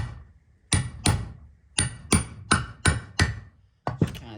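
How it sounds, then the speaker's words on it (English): A hammer taps a size 30 socket onto a part of a 1998 Honda Accord during valve cover and intake gasket work: eight or nine sharp metallic strikes in loose bursts, close and alone. "And then I'm gonna grab my hammer."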